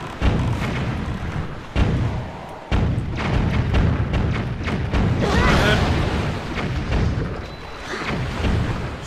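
Enemy ship cannon fire in the video game Zelda Wind Waker, with repeated heavy booms and thuds mixed with dense game effects and music, and a voice talking over them.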